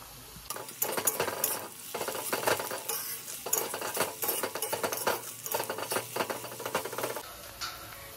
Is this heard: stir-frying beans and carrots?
yes